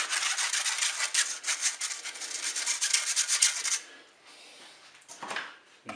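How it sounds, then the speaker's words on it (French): Flour and baking powder are sifted through a sieve into a mixing bowl, giving a continuous close, soft rasping rub for several seconds before it stops, followed by a brief quiet scrape. "Je mets un tamis sur mon saladier, je mets la farine"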